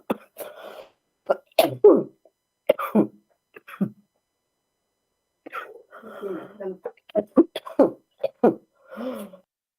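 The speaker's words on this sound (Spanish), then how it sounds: "Perdón por el acceso de tos." A fit of coughing, a run of sharp, harsh bursts in uneven clusters separated by brief pauses, close and fairly loud.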